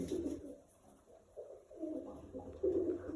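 Pet pigeons perched on a rooftop loft give soft, low, repeated cooing calls in short bursts, fairly near and gentle, with quiet background between calls.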